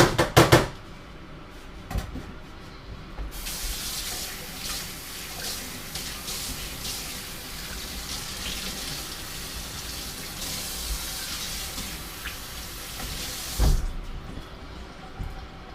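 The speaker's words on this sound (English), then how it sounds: "So now we just add some water. Distilled water here." Distilled water runs steadily from a container into a dish of instant mashed potatoes, a quiet, continuous splashing pour lasting about ten seconds, with a few clunks of handling before it starts and another near the end.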